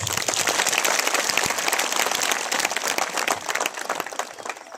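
Audience at a political rally in India clapping for Jyotiraditya Scindia, a loud, dense burst of applause that gradually thins out toward the end.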